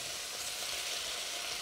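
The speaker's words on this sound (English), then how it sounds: "the meat and you can hear it sizzle" Beef hitting hot oil in a wok for a stir fry gives a steady, dense hiss of frying that carries evenly and loudly from start to finish, with no voices.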